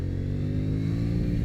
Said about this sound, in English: the exhaust sounds quite fruity